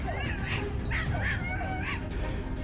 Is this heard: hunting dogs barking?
yes